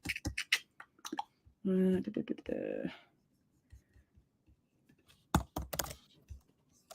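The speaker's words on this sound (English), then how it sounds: "I'm typing back to Ryan here" Rapid keyboard typing clicks away in bursts on a computer keyboard, close and fairly quiet, with a few pauses between runs; a voice talks briefly before and after the typing.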